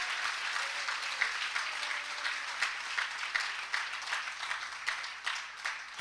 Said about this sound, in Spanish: Denle fuerte esas palmas al Cristo de la gloria.